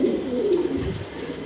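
Grizzle pigeons kept for breeding coo in a low, throaty warble, one soft rolling call close by that swells and fades within a second and a half, with no talking.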